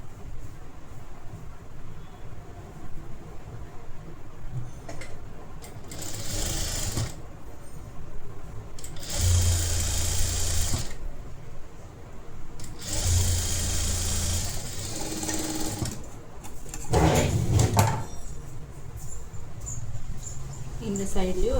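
A sewing machine stitches a folded half-inch blouse border in several whirring bursts of a few seconds each, with quieter pauses between them.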